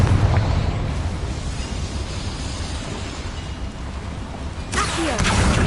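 The Confringo spell explodes in the video game Hogwarts Legacy, a crackling burst layered over a constant loud rumbling roar, with a sharper surge near the end.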